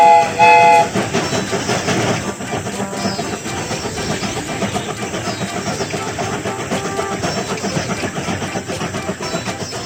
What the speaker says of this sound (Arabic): القطار على وشك التشغيل.